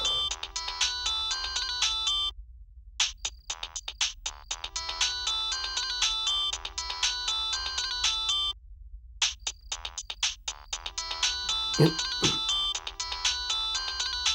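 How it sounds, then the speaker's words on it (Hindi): Mobile phone ringtone playing loud and continuous, a bright repeating electronic melody that stops briefly twice and then resumes, with no voices. "किसका फोन बज रहा है?"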